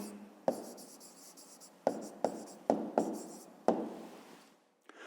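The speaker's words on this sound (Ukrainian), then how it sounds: "Ну, а тепер записуємо відповідь. Пишемо відповідь." Pen or pencil writing an answer by hand on paper for a fifth-grade math division exercise, a close, steady scratching broken into several short strokes with brief pauses between them, no talk.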